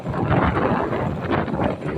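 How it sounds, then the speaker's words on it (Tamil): Strong wind on a fishing boat at sea buffets the microphone in a steady, rumbling roar, gusting slightly louder and softer over a couple of seconds. "நல்ல காற்று."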